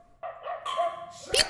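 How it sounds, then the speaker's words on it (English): Dog barking in the anime Cowboy Bebop, a short run of a few high, yappy barks and yips rising to a sharp final bark, with no talk over it. "Be nice to your dog, Jet!"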